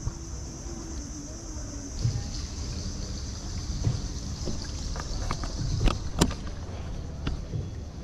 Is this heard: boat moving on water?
yes